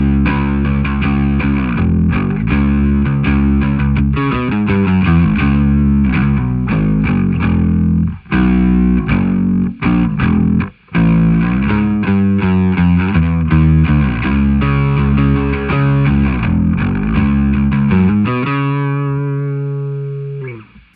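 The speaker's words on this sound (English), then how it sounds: "Here's what it sounds like with my Dark Glass distortion pedal on." Bass guitar played through a Dark Glass distortion pedal in a rock tone: a loud, gritty, sustained riff of driven notes with brief cut-offs and a final held note fading out.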